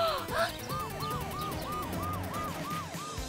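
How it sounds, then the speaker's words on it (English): An ambulance siren wails steadily and loudly in a repeating rising-and-falling cycle, about eight cycles with no pause, over a low rumble of traffic and no talking. "Ambulance took our injured Susie."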